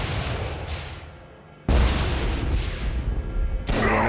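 Bursts of weapon fire in Saints Row: Gat Out of Hell: a fading rumble, then two loud, sudden blasts cutting in a couple of seconds apart.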